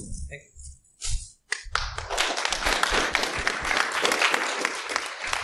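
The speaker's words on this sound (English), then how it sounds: "big round of applause for Jay for being such a good sport and answ" Applause from a conference audience at a security talk swells after a few scattered claps and some speech, building into steady, fairly close clapping that continues to the end.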